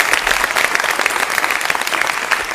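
Dense, steady applause from an audience at a Maha Kumbh 2025 talk by Swami Avimukteshwaranand, a continuous mass of clapping that stays loud and even for the whole stretch, with no voices standing out.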